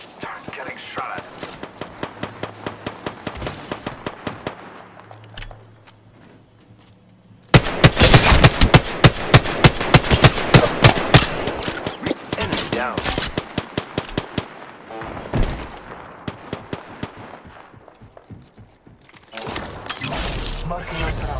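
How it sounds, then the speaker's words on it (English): Rapid automatic gunfire in the Apex Legends video game, loud bursts with sharp individual shots and pauses, mixed with game voice lines and effects. "Darn, getting shot at."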